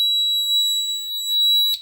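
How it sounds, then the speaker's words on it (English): Steady high-pitched electronic tone of a home security system's front door alarm, sustained and close, with a brief louder burst right at the end; no voices. "And it'll be a front door alarm."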